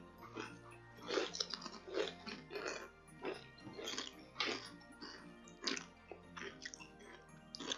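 Flavoured potato chips, peach and plum-blossom condensed-milk varieties eaten mixed together, crunched up close in a steady series of bites and chewing, with brief soft voices in between.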